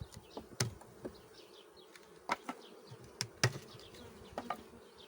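A steady, low hum of many honeybees buzzing close by in an opened hive, with occasional sharper knocks and rustles as frames and the follower board are handled.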